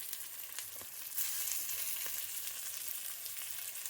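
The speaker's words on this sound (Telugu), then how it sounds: "పోపు ఇచ్చింది, కొద్దిగా దాంట్లో పెడుతున్నానండి." Hot tempering (popu) hits a pot of dondakaya pappu, ivy gourd dal, with a steady, bright crackling sizzle that swells slightly and keeps hissing loudly and close throughout, with no talking.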